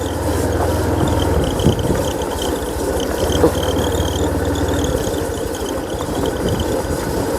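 A farm tractor's engine runs steadily up close, a continuous low, throbbing drone with a faint rattle and no talking over it.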